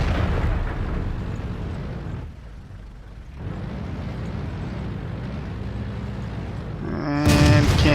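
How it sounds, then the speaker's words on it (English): Tank cannon fire and shell impacts in the World of Tanks video game, a T-29 tank taking hits from smaller-caliber guns: a continuous roar of blasts that dips briefly midway, then a sharp metallic ringing hit near the end. "Taking a lot of shots from smaller caliber guns."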